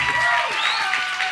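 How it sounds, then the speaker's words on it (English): Audience giving Nat Morris of the Dramatics a round of applause during a 1983 televised interview: a brief, loud wash of clapping with a voice speaking over it. "Let's give Nat a big rousing round of applause."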